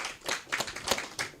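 A church congregation at Sunday worship claps hands together in a loose, uneven rhythm of about five bursts, moderately quiet and without speech.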